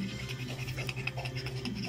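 Hatsi, a mother dog who has just given birth, pants in quick, steady, faint breaths close by with no talk.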